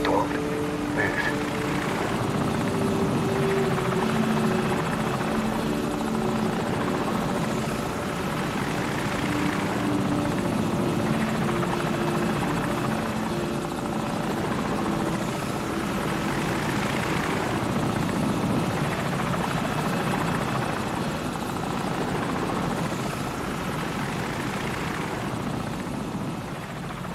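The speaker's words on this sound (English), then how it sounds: "Enemy helicopter! Get down!" An enemy helicopter's steady rotor thrum drones loudly as it circles overhead in Call of Duty 4, with voices speaking over it now and then.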